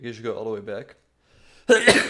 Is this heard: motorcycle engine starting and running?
no